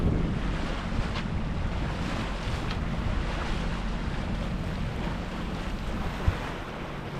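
A single-handed sailboat motoring under engine off the Scottish coast near Arran, a steady low engine drone beneath continuous wash of waves and gusting wind across the microphone, with one brief knock near the end.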